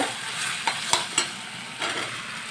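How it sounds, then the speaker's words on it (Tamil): Mushrooms tossed into a hot frying pan for a Tamil mushroom chukka and stirred, with a steady oil sizzle broken by a few sharp scrape and clatter hits from the spoon. "மஷ்ரூம் போட்டு இப்படி கலந்து விட்டுக்கோங்க"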